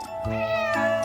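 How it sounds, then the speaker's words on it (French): A cat meows clearly and close by, one sustained, strongly harmonic call that rises and then falls, with no talking over it. "Oh non, mais c'est un chat."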